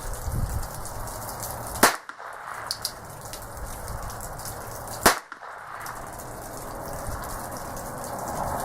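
Two sharp, loud gunshots from a North American Arms Mini Mag revolver, a few seconds apart, with a quiet gap and faint background noise between them; no talking.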